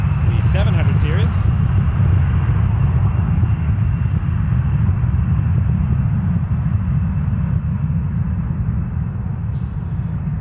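A PSA regional jet, a CRJ700-series airliner at an airport, produces a loud, continuous low engine rumble that holds steady for the whole stretch with a brief voice at the start.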